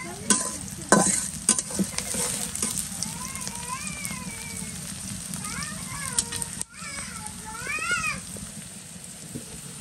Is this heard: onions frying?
yes